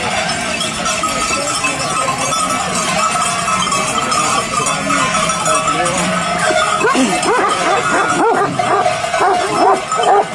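A herding dog barks repeatedly at a flock of sheep during a spring transhumance in the Lis valley, with sharp yips standing out over constant flock noise and bells, plus some voices nearby.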